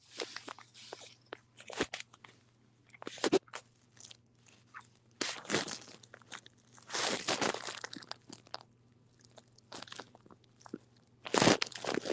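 Cookie Crisp cereal crunches between teeth in close, irregular bursts of chewing separated by brief quiet gaps, with a faint steady hum beneath.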